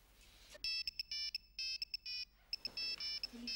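An electronic telephone ringtone plays in a home scene in a drama, bright repeating chirping tones in quick rhythmic bursts, clear and fairly near, with faint room noise after it stops.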